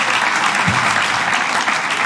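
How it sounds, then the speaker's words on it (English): Loud, dense applause from a comedy show crowd, close and continuous throughout the short stretch with no speech over it. "Give Ashley a big round of applause"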